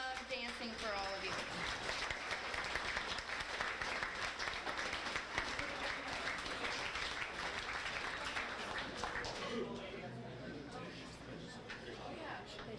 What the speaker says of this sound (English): Let's have one last applaud for these girls